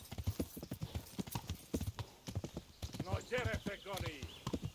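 Galloping horse hooves from Kingdom Come: Deliverance beat in a fast, uneven rhythm while game characters shout and talk over them.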